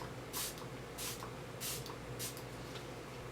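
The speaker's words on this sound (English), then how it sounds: "Just a couple sprays." Several short airy bursts of MAC Fix Plus setting mist, the mini coconut version, sprayed onto a makeup brush, spaced about half a second apart against a faint steady background hum.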